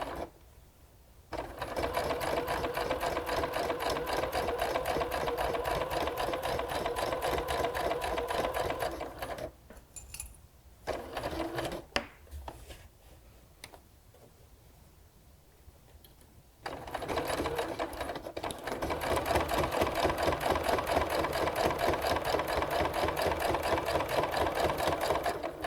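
A sewing machine stitches around the corner of a fabric page-corner bookmark, running in long steady bursts with a pause in the middle for pivoting, then resuming its rapid mechanical chatter, close and clear.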